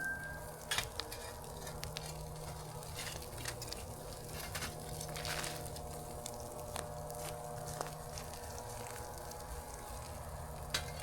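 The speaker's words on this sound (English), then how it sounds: "I can hear the Cowboy packet sizzling." A cowboy hobo foil packet cooks over a campfire, giving a faint, continuous sizzle with scattered small crackles and pops, steady and distant-sounding throughout with no talking.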